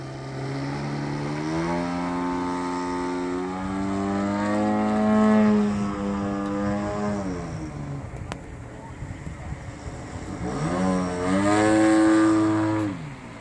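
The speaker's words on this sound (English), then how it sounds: "That's a really fun looking plane, Brad." A 42% Hyperlite Slick 540 RC aerobatic plane flies with a loud engine drone that climbs and falls in pitch as it passes and maneuvers, fading mid-clip before surging again.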